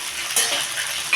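Onions and green peas fry in a pan with a dense, close sizzle, and brief stirring scrapes add bursts near the start and again at the end.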